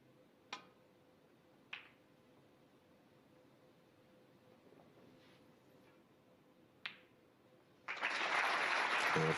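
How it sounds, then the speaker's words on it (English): Snooker crowd at the 2022 Turkish Masters final: a quiet arena with a few sharp isolated clicks of cue and balls, then a sudden burst of full audience applause near the end. "The applause, and it was justified"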